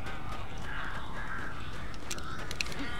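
Crows caw several times in the video game Alan Wake, sharp harsh calls standing out over a constant low rumbling ambience, with no talking.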